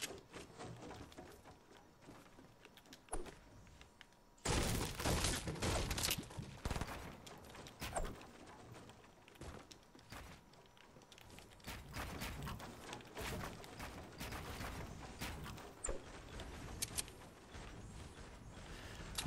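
Gunfire in the video game Fortnite during a competitive solo showdown match: bursts of rapid shots break out after a quiet stretch, loud and clustered, then continue intermittently with scattered footsteps and mechanical clicks.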